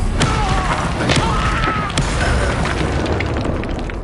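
Fiery blasting-curse explosions and spell clashes in the Hogwarts Legacy video game, dense rumbling booms and crackling bursts layered loudly over a continuous roar of combat.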